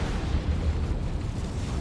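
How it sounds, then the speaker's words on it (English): Orbital bombardment explosion in a Warhammer-style strategy video game, heard as a continuous deep, roaring rumble with a few heavy low thuds early on, loud and sustained with no voices. "Another orbital bombardment."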